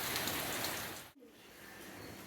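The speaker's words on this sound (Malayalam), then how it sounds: "അപ്പോൾ മഴ കുറച്ച് കുറഞ്ഞു, പക്ഷെ എന്നാലും ഉണ്ട് ചെറുതായിട്ടൊക്കെ" Steady soft patter of light rain, a continuous hiss that briefly drops out for a moment before resuming, with no voices.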